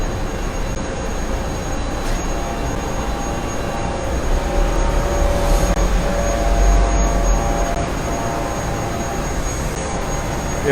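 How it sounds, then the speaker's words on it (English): Milling machine cutting a baffle in a mold and die shop, a steady loud broadband machining roar with a constant high whine, continuous throughout with no talk. "Here's one that's being milled. They're milling a baffle."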